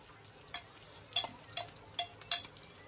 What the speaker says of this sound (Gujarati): ડુંગળી નાખવાની છે તેલમાં